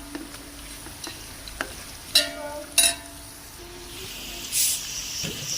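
Cumin seeds being stirred into a pan of frying chickpea masala, with a soft steady sizzle, a few sharp spoon clinks against the pan and a brief hissing swell near the end.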